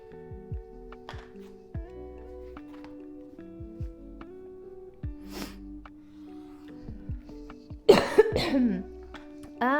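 A person gives a burst of harsh, close coughs near the end, following quiet tapping and soft handling noises in a still room.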